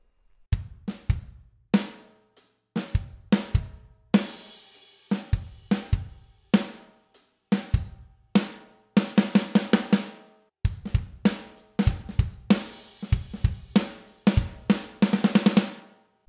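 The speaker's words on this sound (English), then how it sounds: "The second fill in the chorus is a little bit different and sounds like this." A drum kit plays the second chorus fill from a song, with close, punchy kick and snare grooves broken by quick rolling bursts of snare and tom hits, alone with no voices.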